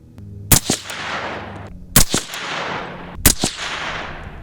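Three loud, close rifle shots from a .223 Rem rifle firing hand-loaded 77-grain rounds, spaced about 1.4 seconds apart, each a sharp crack followed by a long fading echo.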